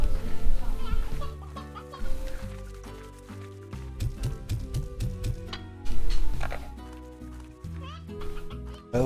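Chickens and roosters in a video game cluck in short bursts under lively game music, while a person talks over them throughout.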